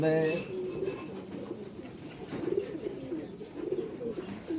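Young pigeons coo close by in low, rolling calls that repeat every second or so.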